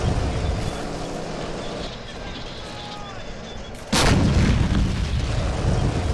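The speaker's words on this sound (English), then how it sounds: "Blasting them over the freaking cannon here." A tank cannon fires in a shooter video game: a sudden loud, deep blast with a bright crack, followed by sustained rumbling, over a busy battlefield background of distant gunfire.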